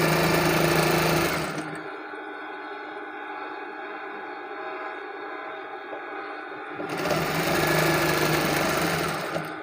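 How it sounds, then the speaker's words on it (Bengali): A tailor's sewing machine stitches a kameez with piping, a steady close whirring run, then a pause of quieter background before the motor starts again with the same rapid mechanical hum. "দেখুন আমি সেলাই করে নিচ্ছি, আপনারা দেখুন।"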